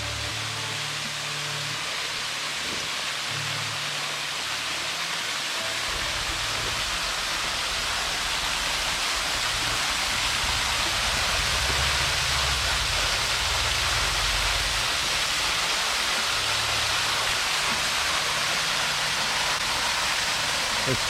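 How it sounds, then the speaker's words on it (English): Steady roar of a waterfall with a creek flowing beneath a small bridge on the Natchez Trace, a broad continuous rushing wash that grows slightly louder midway, close and alone. "I've reached the bottom of the falls."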